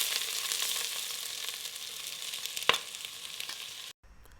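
Whole spices and finely chopped onions frying in hot oil, a steady close sizzle with one sharp crackle near the middle before the sound cuts out abruptly near the end.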